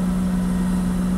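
Nissan Skyline R34 turbo engine holding a steady loud drone with a strong low hum, a brief unbroken stretch with no rise or fall and no talking.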